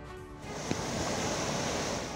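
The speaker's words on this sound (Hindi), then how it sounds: "श्रावस्ती में राप्ती नदी का ये रौद्र रूप है, जिसकी तेज धार सब कुछ लीलने पर आमादा है।" Swollen Rapti river in flood at Shravasti after heavy rain, a broad, steady rushing roar of fast-flowing water heard continuously without talk.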